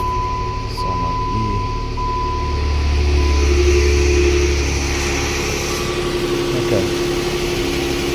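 A 2015 Jeep Wrangler 3.6-liter V6 cranks and settles into a steady, loud idle, its low rumble swelling midway, with a brief spoken word over it.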